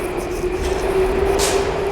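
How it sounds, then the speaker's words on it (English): Saint Petersburg metro train heard as a steady, loud rolling rumble with a sustained tonal whine, continuous throughout with a brief brighter hiss near the end. "First time in Petersburg metro. SPB Subway."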